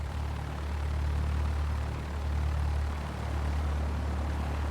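A propeller plane's engine warms up in the X-Plane 12 flight simulator, a loud steady droning hum with a deep low throb that swells and eases slightly, heard alone from outside the aircraft.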